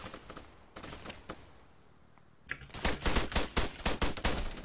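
Bursts of automatic gunfire in the Arma military shooter, an urban Fallujah city mission, with a few scattered shots early on, then a dense run of rapid, loud cracks and rattles in the final seconds.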